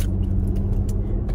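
Car interior while driving, a steady low rumble of road and engine noise with faint light rattles and no speech, brief and uniform throughout.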